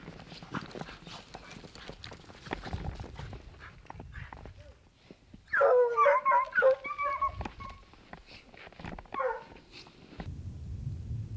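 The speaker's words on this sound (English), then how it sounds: "We got one set of dogs treed over here, and some still trailing way out there." Hunting dogs bay and bark at a treed mountain lion in rugged country, a short burst of loud, close baying in the middle with fainter yelps further off, while people talk and move around.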